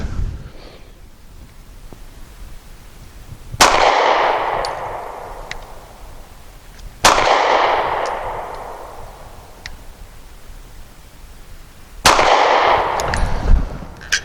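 Three loud, sharp gunshots from a Mossberg MC1SC subcompact pistol firing 135 grain Flexlok hollow points, spaced several seconds apart outdoors, each blast followed by a long fading echo.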